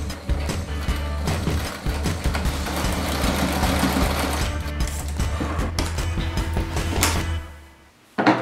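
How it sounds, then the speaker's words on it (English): A regular home sewing machine stitching fabric for a backless crop top, running in a steady close mechanical whir with rapid needle clatter for several seconds before stopping, then a brief clunk. "I'm just gonna use my regular sewing machine from now on."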